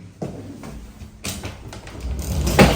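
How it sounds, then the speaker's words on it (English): Elevator doors slide shut with a soft mechanical rumble and a bump at the end, the whirring motor swelling steadily louder over a few seconds, close by. "Doors closing."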